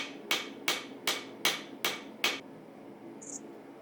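A hammer strikes hot steel being forged into a scroll at the edge of an anvil: six sharp, evenly spaced ringing blows up close, then quiet.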